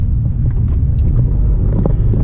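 Steady, loud low rumble of a 2018 Hyundai Elantra Sport Turbo driving on the road, a continuous engine and road drone heard from inside the car with no talking.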